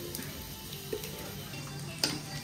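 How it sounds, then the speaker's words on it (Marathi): Dal tadka crackles and sizzles softly in hot oil as a steady frying hiss, with a couple of brief sharper pops. "अब देखो तडका"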